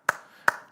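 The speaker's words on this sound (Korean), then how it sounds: "박수를 치고," Two sharp hand claps, spaced about a beat apart, ring out close and clear in a quiet room, each with a brief reverberant tail.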